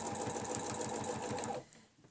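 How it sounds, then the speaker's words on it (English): Sewing machine stitching a tulip cable design along a ruler, a close rapid even stitching rhythm that stops abruptly after about a second and a half. "We're stitching over that line twice."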